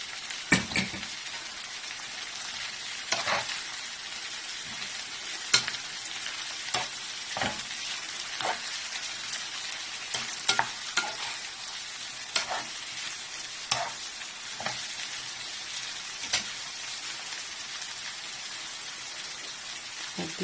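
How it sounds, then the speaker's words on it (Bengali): Leafy greens, kolmi and red shak, fry in oil with garlic and dried chili, giving a steady soft crackling sizzle broken by sharp clicks of a spatula stirring in the pan. "এটা ভাজা হয়ে গেলে তারপরে আমি দিব শাক"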